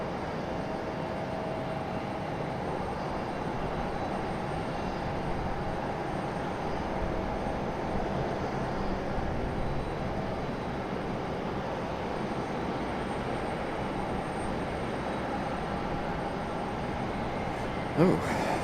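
A JetBlue airliner at Raleigh Durham International Airport, with a continuous broad jet engine roar held at a steady, moderate level throughout, heard from a distance and alone.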